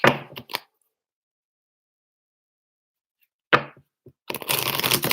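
A deck of cards being shuffled up close, short crisp riffling bursts at the start and middle separated by silence, ending in a longer continuous flurry of fluttering card noise.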